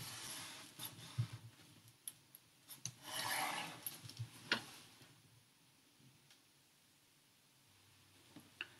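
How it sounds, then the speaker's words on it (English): Paper tape being rubbed firmly down onto the seam of a handmade concertina book, a quiet close series of scratchy strokes and taps, with one longer swipe in the middle before it fades. "give it a good rub to make sure that it's firmly"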